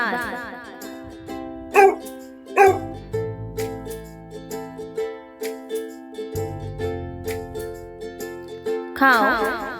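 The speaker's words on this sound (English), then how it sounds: "dog" A dog barks in short repeated bursts over music, several yips and barks spaced through the clip, moderately close.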